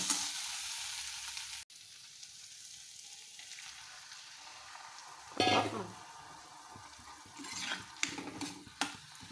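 Vegetables with young lai shaak (mustard green) seedlings and chickpeas frying in a pan sizzle steadily, then a burst of louder hissing and crackling rises as water is poured in, followed by scattered sharper sizzles.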